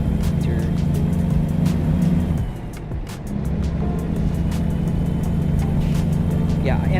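A Volvo S60R engine in a video game holds a steady, close drone with strong low harmonics, easing off briefly near the middle before settling back into an even hum.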